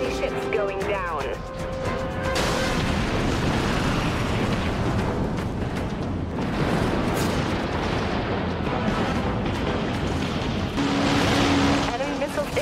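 Spaceship weapons firing and enemy ships exploding in the Dreadnought space combat video game, a corvette battle with continuous dense booms and blasts layered over a rumbling engine drone, while a voice speaks under the action.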